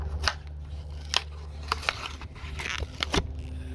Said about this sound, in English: Here, let's just tear it this way.